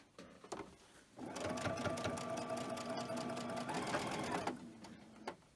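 A sewing machine stitches two fabric pieces together in one steady run of about three seconds, humming and clattering close by. A few handling sounds come before and after it.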